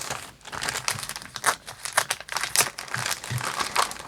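Disney-patterned gift wrap paper being unwrapped up close, with continuous crinkling and crackling and a few sharper rustles and tears, loud and busy with no voices.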